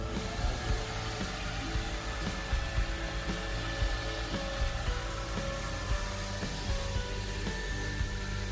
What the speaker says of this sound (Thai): อันนี้ก็เป็นเครื่องดูดฝุ่นหยอดเหรียญนนะคะ